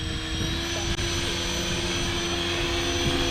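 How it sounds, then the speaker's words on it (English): An RC helicopter's rotor spins at high RPM in stunt mode 2, a loud, constant, buzzing whine that fills the scene, with a brief dip and talk faintly underneath. "Definitely an RPM increase, but it's not like the helicopter got wacky or anything."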